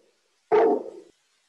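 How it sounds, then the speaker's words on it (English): A dog gives one sharp, fairly close bark that trails off quickly into silence. "That's my dog."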